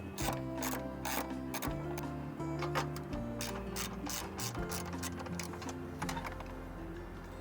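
A ratchet wrench clicks steadily while loosening the two nuts on a car battery's hold-down strap during a battery replacement, a fast, close metallic ratcheting in bursts with brief pauses and no talk.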